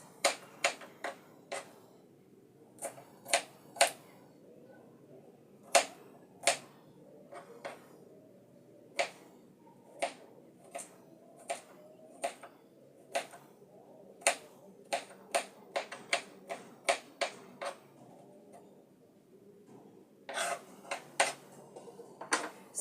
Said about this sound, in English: And I'll mash my ginger and garlic, and I'll be able to cut it to slice.